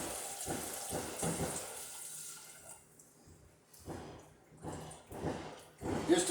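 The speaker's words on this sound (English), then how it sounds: "Now I'm going to add about that much more water again." Water pours and splashes into a pot in several bursts with short pauses between, fairly close and quiet, while making apple wine.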